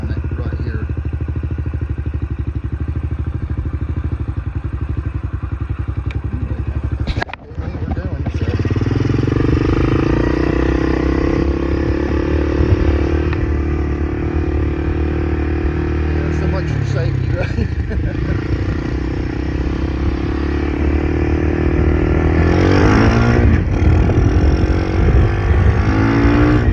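An X-Pro X6 engine idles, then revs up as the clutch grabs, a close rising mechanical roar that settles and swells again, with someone talking over it.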